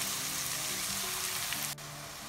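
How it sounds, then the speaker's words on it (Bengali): Spice paste being sautéed in a pan for a beef tripe curry, giving a steady, soft sizzle like light rain, close and quiet, with a small clatter and drop in level near the end. "এবার সব মশলা একসাথে করে খুবই ভালো করে কষিয়ে নিচ্ছি।"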